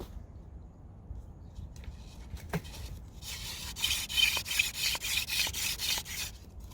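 Rough rubbing and rasping of a drill against wood, starting faint and growing into a louder, rhythmic scraping toward the end.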